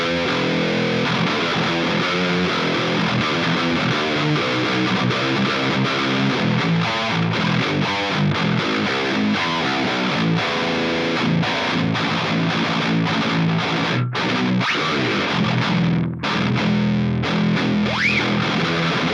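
A Squier Bass VI runs through a Podgo amp with a heavily distorted djent tone, playing loud, dense chugging riffs with sharp palm-muted stops and brief gaps, continuous and alone.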